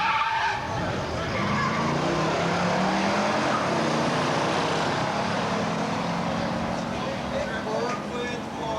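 Hemi-powered Plymouth Superbird muscle car with an automatic transmission races down a drag strip at an outdoor meet, a loud sustained engine roar with tire noise sweeping past, while an announcer talks over it throughout.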